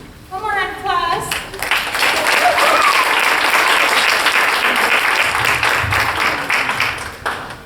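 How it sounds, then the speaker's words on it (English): Audience applause at a MacArthur High School Band concert, sustained loud clapping from a full crowd after a brief instrumental or vocal tone at the start, fading slightly toward the end. "One more round of applause."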